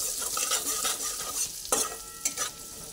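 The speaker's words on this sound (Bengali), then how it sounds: "সব দিয়ে এরপরে আমি এটা ভেজে নেব।" Spice mixture frying in a pan as the base for a prawn filling, giving a steady soft sizzle with stirring scrapes and a couple of brief sharper clatters, close and moderately loud.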